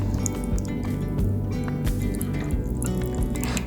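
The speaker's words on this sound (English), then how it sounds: "So I like to add a little bit more water and salt brine." Water and salt brine pour into a jar of fermenting homemade sauerkraut, a steady close liquid filling sound with dribbles and small splashes throughout, no talk.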